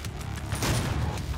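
Shotgun blasts from the super shotgun in the DOOM video game, heavy booming shots layered over continuous game sound and music, loud and close over about a second and a half.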